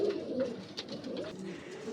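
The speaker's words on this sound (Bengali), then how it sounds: "খেয়াল করলে বুঝতে পারতেছেন যে বাইরে আমার বেশ কিছু কবুতর ঘোরাফেরা করছে এলোমেলোভাবে" Jalali pigeons cooing outside their shed in the open, soft low coos repeating at a moderate distance, with faint light background noise.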